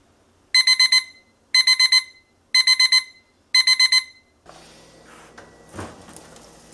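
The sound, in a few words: kitchen timer alarm ringing while spam cooks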